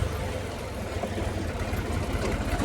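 A tractor engine idles and runs steadily in a farm field, a continuous low, throbbing rumble held at a constant level with no talk over it.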